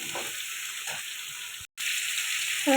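Vegetables with bay leaf frying in fish-frying oil tempered with five-spice, a steady close hiss that briefly drops out before resuming.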